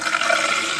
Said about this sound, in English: I'm gonna turn that to where the water starts coming up.